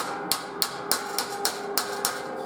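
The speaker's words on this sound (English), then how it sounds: "I'm using a small ball peen hammer" A small ball peen hammer strikes a metal panel of an enclosed cargo trailer to flatten dents, eight sharp evenly spaced taps close up with nothing else around.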